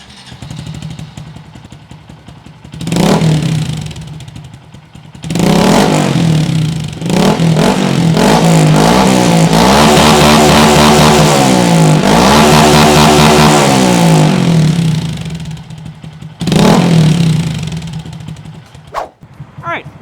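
A Honda Grom 125cc motorcycle with an aftermarket exhaust idles and then revs hard in repeated loud bursts, with a sustained high-revving stretch in the middle before dropping back to a burbling idle, close up.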